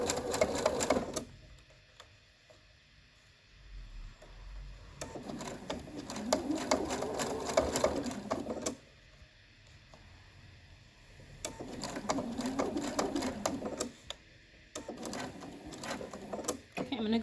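A sewing machine stitches a cloth mask in bursts of rapid, whirring stitching with pauses between them, and a voice talks over the stitching and fills the gaps.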